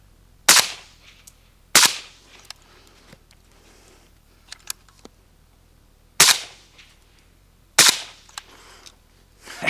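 Four loud, sharp rifle reports from a 13-inch 5.56 Galil ACE fitted with a suppressor, fired outdoors at uneven intervals, with faint clicks and small ambient noises between the shots.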